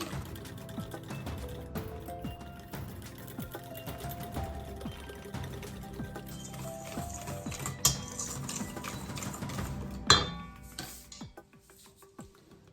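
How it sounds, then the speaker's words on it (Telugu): A spoon or whisk mixes baking soda and salt in a bowl, with a busy run of close, quick scraping and clicking strokes and a couple of sharper knocks near the end before it trails off. "And salt 1/2 tea spoon add చేసేసి బాగా మిక్స్ చేసుకుంటున్నాను."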